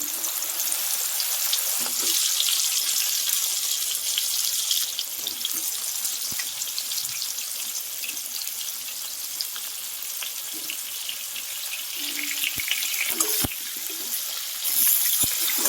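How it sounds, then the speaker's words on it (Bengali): Mango pieces fry in hot oil for a pickle, giving a continuous bright sizzling hiss with occasional pops and stirring clicks, close up and without talk. "এবার আমি তেলের মধ্যে দিয়ে দিচ্ছি আমগুলো"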